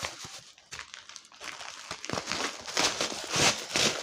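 Crinkly rustling and crackling of adhesive tape on a diamond painting kit being handled, with sharp bursts that grow louder and denser toward the end.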